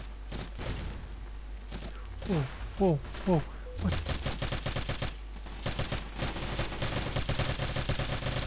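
Rapid gunfire in a video game assault match, bursts of automatic fire and single shots crackling loudly around a fast-talking voice, with footsteps and other battlefield noise filling the background throughout.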